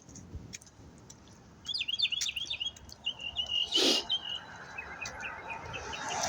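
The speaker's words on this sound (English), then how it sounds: "I don't know if you hear the bird." A bird calls in a quick series of high chirps, then softer trailing notes, over quiet outdoor background noise.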